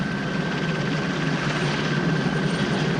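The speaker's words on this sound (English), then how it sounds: "We've got a helicopter hovering above the train." A helicopter hovers nearby above a train, its steady rotor thrum and engine whine continuous and loud for the whole stretch.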